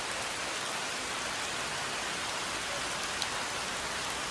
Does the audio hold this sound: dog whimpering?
no